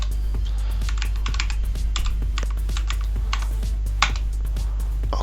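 Rapid, irregular clicks of a computer keyboard as a password is typed, crisp close keystrokes in quick bursts over a constant low electrical hum, with no voices.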